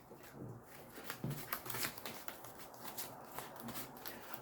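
A deck of Marvel Crisis Protocol game cards is shuffled close by, giving quiet, soft riffling and sliding flutters in a few short bursts.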